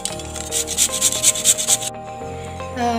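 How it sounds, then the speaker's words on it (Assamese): Peeled potatoes rubbed against a grater in about eight quick, even rasping strokes that stop abruptly partway through. "এতিয়া মই এইকেইটা পিহিম।"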